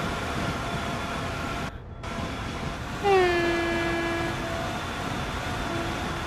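A British passenger train on the West Coast Main Line, an Avanti West Coast service between Preston and Carlisle in Train Sim World 5, rumbles steadily with a brief drop in sound and then a long, loud two-tone horn blast.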